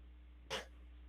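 A sick dog gives a single short, sharp sneeze or snort close to the microphone, heard alone over a low steady electrical hum.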